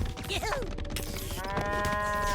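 Cartoon cows mooing in South Park Phone Destroyer, a couple of short warbling moos layered over busy game effects and a steady background music bed.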